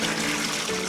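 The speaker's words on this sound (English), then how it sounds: "You drain it and you put fresh water." Water pours off boiled salt cod as it is drained, a steady close splashing rush of liquid running out continuously for a moment, with no voices.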